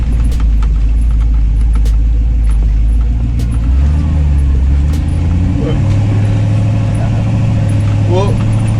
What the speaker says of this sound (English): it's a motorhome going 40.